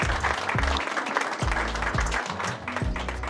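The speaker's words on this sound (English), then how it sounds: "a round of applause for Jimmy" An audience applauds for a presenter at a real estate talk, the dense clapping mixed with low booming thumps and other room noise throughout.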